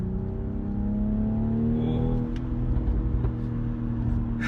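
A 2019 BMW X3 M40i SUV accelerates hard, its engine droning loud and steady with rising harmonic tones over road and wind noise, heard from inside the cabin.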